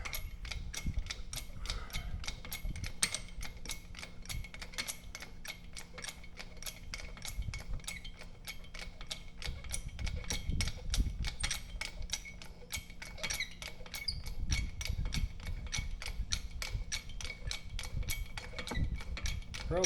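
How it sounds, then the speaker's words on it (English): A pipe wrench on a backhoe axle, strained by a hydraulic jack, gives off steady, rapid metallic ticking and clicking with low creaks and thumps. The sound carries on throughout at moderate loudness. "Probably slipping the pipe wrench on the other side."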